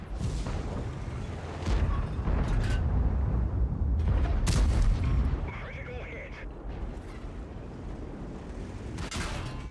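Heavy cannon blasts and rumbling booms from a Conqueror tank battle in a tank video game, with several loud, broad bursts spread across the stretch over a steady low battle din.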